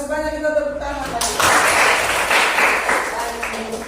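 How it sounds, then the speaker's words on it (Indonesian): A classroom group in a school session breaks into clapping after a teacher's voice, a dense wash of hand claps that rises abruptly and continues fairly loud, with speech nearby at the start. "kita tepuk tangan lagi"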